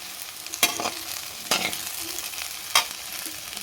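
Chopped okra with onion and garlic sizzles in a pan while a spoon stirs it in three distinct scraping strokes over a constant soft frying hiss, close and alone.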